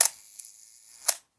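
A Minolta SRT101 35mm film SLR fires its shutter, giving a sharp mechanical click, a held ringing pause of about a second, then a second click as the shutter closes, close and clear with no talking.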